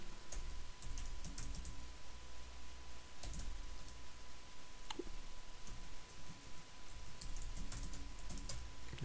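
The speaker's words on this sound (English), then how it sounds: "There we go, typed it correctly." A password being typed on a computer keyboard, quick light key clicks in irregular bursts over a faint steady electronic hum, close and fairly quiet with no voices.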